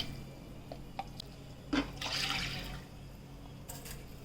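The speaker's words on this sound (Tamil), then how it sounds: "தண்ணி வந்து 2 டம்ளர் ஊற்றிக்கிறேன்." Water is poured from a tumbler into a pressure cooker holding horse gram, a faint splashing and trickling that swells briefly and then settles into soft drips.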